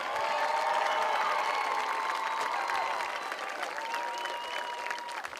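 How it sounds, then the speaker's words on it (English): A stadium crowd applauds and cheers the homecoming court at a Shippensburg at Gettysburg high school football game: a loud, dense, steady wash of clapping with whistles and shouts, easing slightly toward the end. "Please join me in giving them a round of applause."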